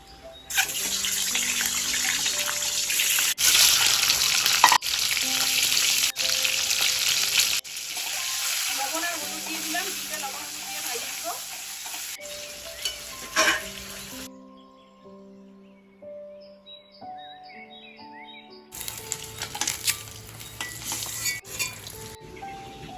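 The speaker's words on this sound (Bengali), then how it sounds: "এই ডিম পাঁচটা ভাইজে নেবো" Five eggs fry in oil in a pan, a loud, steady hiss and crackle with some stirring and scraping, broken by a brief quiet stretch, while a person speaks now and then.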